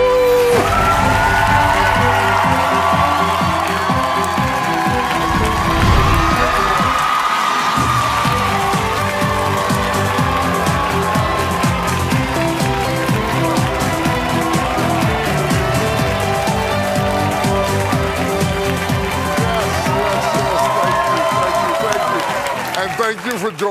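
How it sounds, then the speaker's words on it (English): Crowd cheering and whooping at a motivational church gathering, a steady loud wash of many voices, mixed with music and a speaker's talk running throughout. "Look at who's cheering for you. The village is with you."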